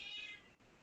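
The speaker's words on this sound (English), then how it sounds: "Yeah, and there's also a cat." A cat lets out one short, high meow indoors, fairly faint and brief, with quiet room noise after it.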